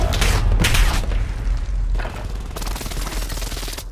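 Loud bursts of gunfire and heavy booms in Call of Duty: Modern Warfare, with several dense volleys separated by brief lulls, close and dominating the scene.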